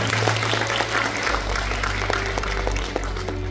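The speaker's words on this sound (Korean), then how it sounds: "많은 박수 부탁드립니다" Audience applause greeting a guest at a Korean talk show, steady and moderately loud for a few seconds over a low hum.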